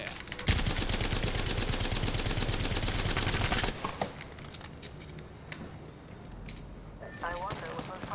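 Dense, loud machine-gun fire from enemy shooters in a video game rattles continuously for about three seconds, then gives way to scattered quieter shots and game sounds with a voice speaking now and then.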